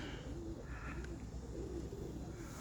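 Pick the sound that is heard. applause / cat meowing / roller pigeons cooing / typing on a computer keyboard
roller pigeons cooing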